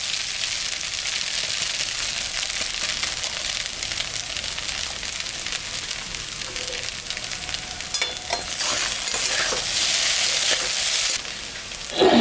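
Maggi noodles frying in a pan with masala, a steady loud sizzle with stirring scrapes throughout, getting brighter near the end, no talking.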